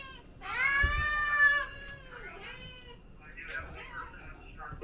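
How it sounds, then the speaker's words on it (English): A single drawn-out cat meow, high and wavering, followed by quieter murmuring voices and faint rustling in a room. "Why has Big Boy got such a little meow?"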